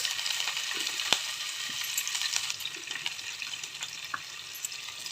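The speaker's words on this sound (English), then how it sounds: "add some vegetable oil to fry the paneer" Paneer cubes frying in vegetable oil in a karai give a steady, bright sizzle with scattered crackles and small pops, close and continuous with no voices.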